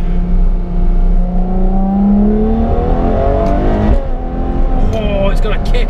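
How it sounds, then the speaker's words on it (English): A Ferrari F12 TDF's V12 engine is heard up close, its note swinging up and down through rapid downshifts, with a loud, continuous drone from the cabin and a voice faintly present. "Watch how quickly this downshifts."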